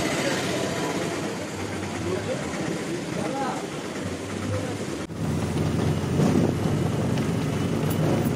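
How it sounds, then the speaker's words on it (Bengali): Strong wind buffeting the microphone outdoors near the Gol Pahari temple in Jamshedpur as a storm builds, a loud rumbling roar that surges louder in the second half, with voices faintly mixed in. "হাওয়া দিচ্ছে খুব জোরে জোরে"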